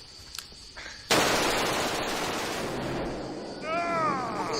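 A smoke grenade bursts open with a sudden loud pop inside a car, then keeps up a sustained roaring hiss that fills the cabin, with brief shouting voices near the end.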